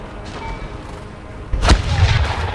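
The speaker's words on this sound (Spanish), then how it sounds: "se quedan delante los cañones y ellos siguen disparando" Cannon fire in a strategy game set in Peter the Great's Russian Empire: a broad, heavy boom bursts out midway, followed by rumbling low battle noise, after a quieter stretch of background din.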